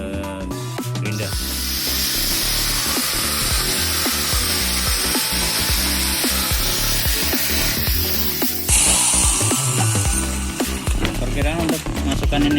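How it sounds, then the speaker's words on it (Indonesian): An angle grinder scores and cuts through a wooden plank while a birdhouse for a parrot is being built, a steady loud whine running continuously with brief shifts in pitch as the blade works. "Kita potong dulu, kita garis dulu menggunakan gerinda"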